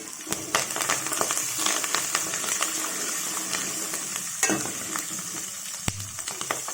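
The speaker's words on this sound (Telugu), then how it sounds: "పచ్చిమిరకాయలు, కరివేపాకు వేస్తున్నాను" Green chillies and curry leaves sizzling in hot tempering oil for tamarind poha crackle close by, with scattered sharp pops and light clinks of a spoon. No one speaks.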